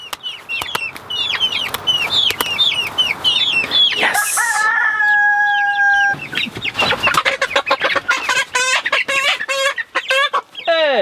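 Icelandic chickens and roosters cluck and crow close by in a busy chorus. A long rooster crow rings out in the middle, with loud clucks and squawks all around it.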